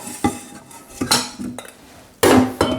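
Floured calamari shaken in a metal container or sieve to knock off excess flour, giving a few sharp clattering metallic rattles spaced out over a couple of seconds, close and fairly loud.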